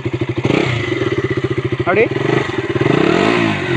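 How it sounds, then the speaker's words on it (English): KTM Duke 200 motorcycle idling and blipping nearby, a loud, punchy single-cylinder exhaust with a rapid throbbing pulse and a quick rev rise near the middle, while someone briefly speaks over it. "The exhaust note is a bit powerful and a bit loud too"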